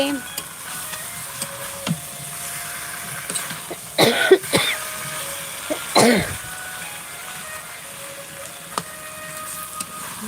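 A few short coughs from someone cooking meat in a home kitchen after adding spices, heard around the middle over a steady background hiss of frying.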